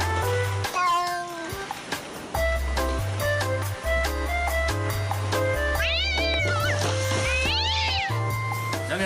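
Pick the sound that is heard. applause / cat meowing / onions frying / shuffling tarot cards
cat meowing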